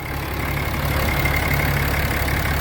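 A 6.7 liter straight-six Cummins turbo diesel in a 2018 Ram 3500 dually pickup idles steadily and close, a deep, even rumble with a faint high whine over it and no voices.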